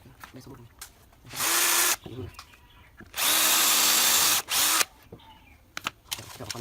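A power drill bores into wood for a big homemade table in two long loud whirring bursts and a shorter one, with clicks, knocks and brief voices in the pauses.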